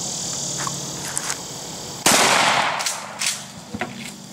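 A single loud blast from a 20 gauge shotgun firing a homemade shell loaded with about seventeen .22 caliber air rifle pellets, a sharp outdoor report that decays over a second amid faint background noise.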